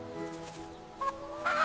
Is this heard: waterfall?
no